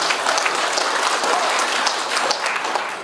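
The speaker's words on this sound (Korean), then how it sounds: "큰 박수 보내드립니다." An audience at a veterans' association anniversary and year-end evening breaks into loud, continuous applause, a thick, even roar of many hands clapping together for the whole stretch.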